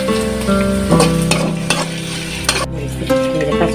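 Dried chapa fish fries loudly with onion and garlic in a pan, a steady close sizzle broken by repeated scraping strokes of a stirring utensil.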